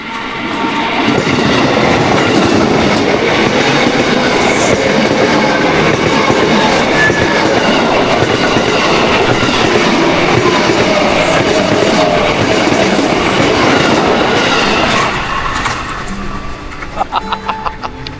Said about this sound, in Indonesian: ini kereta KAI, KRL apa ya?